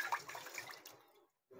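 Cloudy first rinse water from washed rice, prepared for pork sinigang, is poured away in a brief splashing gush that thins out and stops, followed by a short pause and a faint new sound.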